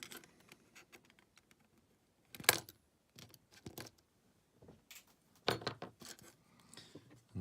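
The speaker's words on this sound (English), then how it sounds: "Trim the legs." Side cutters snip the excess legs of a soldered electrolytic capacitor on a 5V electronic clock kit circuit board, giving two sharp, quiet clicks a few seconds apart against near silence.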